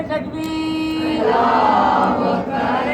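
A ladies' majlis crowd at an imambargah chants back loudly and in unison after a call, the voices swelling into a sustained group shout following a single leading voice.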